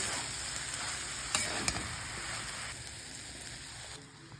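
Banana flower curry being stirred with ghee in a hot pan gives a steady, soft sizzle with a couple of brief scraping clinks, faint and continuous, with no voice.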